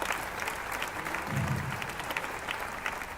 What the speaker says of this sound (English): Let us give our teachers a huge round of applause for that apt presentation.